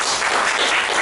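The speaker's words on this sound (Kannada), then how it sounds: "ಒಂದು ಚಪ್ಪಾಳೆ ತಟ್ಟೋಣ." An audience in a teaching session claps together in a brief, dense burst of applause, fairly close and steady without speech.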